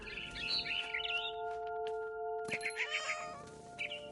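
Cat meowing in the video game What Remains of Edith Finch, several close, clear meows over game ambience with steady tones and bird chirps.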